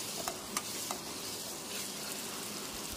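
Coriander leaves, curry leaves and mint sautéing for mutton curry, a soft, steady sizzle with a few light stirring taps, fairly quiet and without talk.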